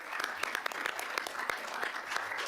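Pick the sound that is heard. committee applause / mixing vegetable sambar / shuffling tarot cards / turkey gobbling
committee applause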